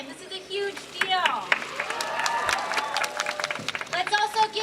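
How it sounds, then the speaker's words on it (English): Crowd applause at the Sunnyside St. Patrick's Day parade in Queens, New York: sustained clapping and some cheering from an outdoor crowd, fairly loud and continuous, with voices mixed in. "Let's give him another round of applause."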